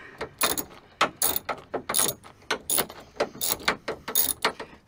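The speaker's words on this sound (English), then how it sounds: "now we're going to have to take our 10 millimeter bolt out of this hole" A ratchet wrench loosens a 10 mm bolt on the door of a 2010 Honda Civic, giving close, loud bursts of rapid clicking in an irregular back-and-forth rhythm with short pauses between strokes, no voices.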